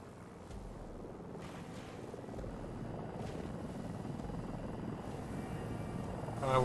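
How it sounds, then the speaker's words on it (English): Helicopter rotor and engine drone from Battlefield 2042, a steady, continuous whirring hum holding level throughout with a slight swell at the end. "Alright, we're gonna get in a helicopter."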